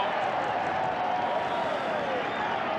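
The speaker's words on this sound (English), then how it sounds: "The crowd roar as Ferguson sets sail." Crowd at a 1989 rugby league match between Canberra and Brisbane roaring in a broad, sustained swell of cheering and applause, with a commentator talking over it.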